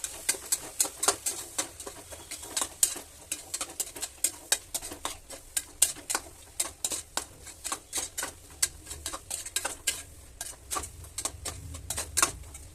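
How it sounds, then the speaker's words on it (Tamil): Coriander and mint leaves sizzling and being stirred in a hot pan, with a steady crackle of frying and rapid spatula taps throughout. "அதை போட்டு நல்லா வதக்கணும்"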